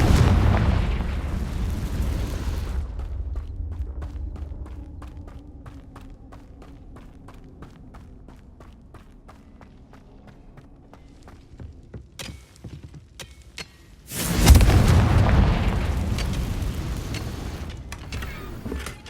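Two loud blasting-spell explosions from Hogwarts Legacy, one opening the scene and another around the two-thirds mark, each a broad booming burst with a rumbling tail, separated by a quieter stretch of ticking and faint ambience.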